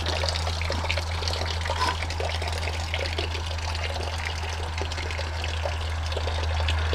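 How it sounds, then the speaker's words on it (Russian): Water trickles steadily from a natural spring called Devichyi Slyozy in Chechnya, a continuous, close, even splashing and babbling with a constant low hum underneath and no voices. "мы приехали на родник Девичьи Слезы."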